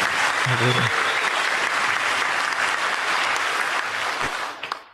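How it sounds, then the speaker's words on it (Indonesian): An audience gives warm, sustained applause for Pak Beni at a gathering, a dense wash of clapping that holds steady for several seconds before tapering off, with a brief voice heard early on. "Tepuk tangan untuk Pak Beni."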